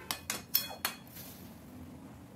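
Four quick metallic clinks and scrapes as young jackfruit is stirred in water inside a kadai, each sharp knock close and bright, then the pan settles into a quiet simmering hiss.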